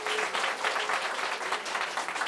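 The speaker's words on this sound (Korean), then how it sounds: "박수 보내주시기 바랍니다" An audience applauds steadily and fairly close during a televised Catholic choir prayer program for peace on the Korean peninsula, a dense, even wash of clapping with no voices over it.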